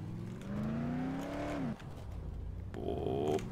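Car engine from the video game Dead Island Definitive, a steady droning hum with rising revs that cuts off briefly, then resumes with a higher whine.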